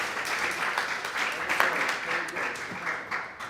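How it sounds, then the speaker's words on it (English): An audience applauds panelists at a talk on the aesthetics of Black Power, steady dense clapping in a hall with some voices mixed in, holding level for a few seconds. "Can we have another round of applause for both panelists, please?"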